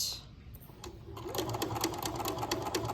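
A sewing machine stitches the seam of a striped fabric pillow near a corner. After a brief pause it runs in a quick, even, close whirring patter until the end.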